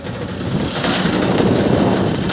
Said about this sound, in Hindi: क्योंकि बारिश पड़ रही है भाई